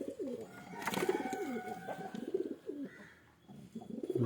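Several pigeons coo in repeated soft, throaty phrases, close and fairly loud, with some overlapping calls and faint background noise and no talk.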